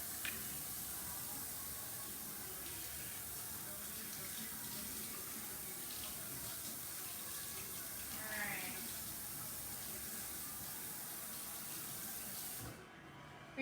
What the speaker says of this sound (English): And of course, rinse your green pepper.